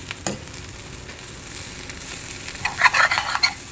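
Dry-style Malabar spinach with toor dal fries in oil with a soft, steady sizzle, a sharp utensil knock near the start and a louder stirring scrape toward the end, close and without voices.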